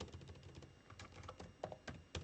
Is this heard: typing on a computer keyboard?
yes